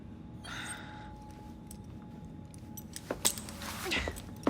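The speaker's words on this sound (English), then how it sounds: "Now hand over your keys." A ring of keys jangles and clinks in Assassin's Creed Syndicate during a tense handover, a few bright metallic rattles near the end, with a faint breath and quiet game ambience underneath.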